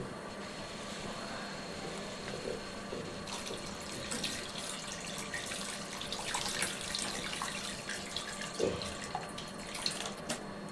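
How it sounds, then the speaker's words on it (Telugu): Tamarind juice being poured into a pot of tuna fish curry, a steady faint trickling splash of liquid that swells slightly toward the end, with no talking. "చింతపండు పులుసు తీసుకున్నాం కాదు ఇది పోసుకుందామండి"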